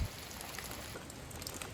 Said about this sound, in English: All right, so it's really raining.